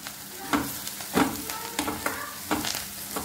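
A spoon stirs turmeric into a roasted eggplant mixture in a frying pan, giving a steady sizzle with repeated scraping strokes at a relaxed rhythm.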